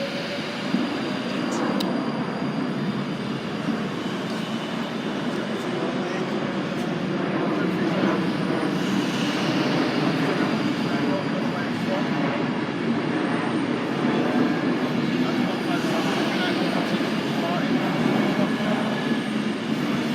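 Class 156 diesel multiple unit pulling out of Stockport station, a steady mid-distance rumble of the train running under a fairly continuous mix of station noise and people talking.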